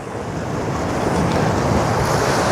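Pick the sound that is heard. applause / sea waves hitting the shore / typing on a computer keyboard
sea waves hitting the shore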